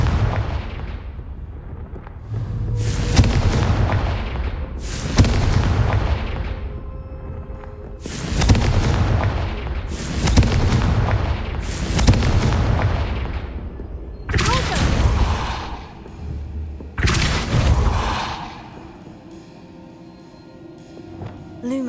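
Repeated Confringo blasting spell explosions in the Hogwarts Legacy video game, roughly a half-dozen loud booming blasts about every two and a half seconds, each with a rumbling decay, alone with no talk.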